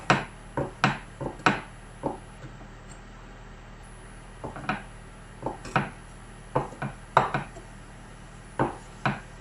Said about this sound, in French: je vais couper le fromage